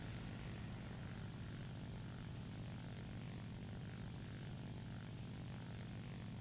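Propeller aircraft engine in the War Thunder air combat game, a steady droning hum holding constant as the plane climbs, loud and continuous with no speech.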